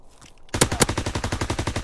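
Rapid automatic gunfire in Call of Duty WW2 multiplayer, starting abruptly after a quiet half-second and then pounding out evenly spaced, loud shots in a steady fast rhythm until the end.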